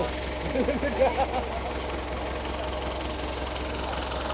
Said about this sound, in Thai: รถไถฟอร์ด